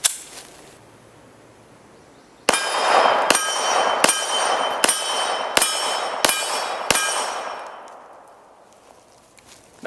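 Seven sharp pistol shots from a Springfield Armory XDm with threaded barrel firing 124 grain 9mm rounds, spaced about a second apart, loud and close, each leaving a metallic ringing tail before quiet returns.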